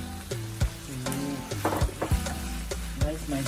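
Vegetables for spaghetti bolognese fry in a pan with a steady close sizzle, broken by clinks and scrapes of stirring, with no voices.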